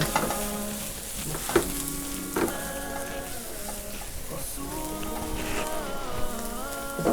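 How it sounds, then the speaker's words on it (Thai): Garlic, bird's eye chillies and dried shrimp stir-fried in a pan, a continuous dense sizzle with crackling spatters and occasional scrapes of the spatula, close up, with a voice talking quietly over it. "ตามด้วยกระเทียมกับพริกขี้หนูที่เราเตรียมไว้ ผัดให้หอม นะคะ เราก็เติมไปด้วยกุ้งแห้ง"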